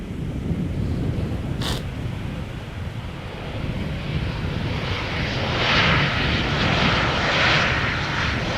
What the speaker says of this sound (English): pretty soon there is a 747 going to take off from the center runway